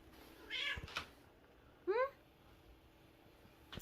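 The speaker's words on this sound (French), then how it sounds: "J'ai un chat qui veut de l'attention, ça a l'air." Cat meowing for attention indoors at home: two clear, close meows about a second and a half apart, with faint rustling and a couple of small knocks around them.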